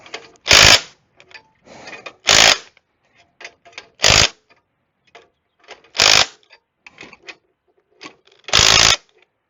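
A spring compressor is cranked tight on a 2014 Cadillac Escalade front strut. Five loud, buzzy mechanical bursts come at roughly two-second intervals, with small clicks and clatter in the gaps between.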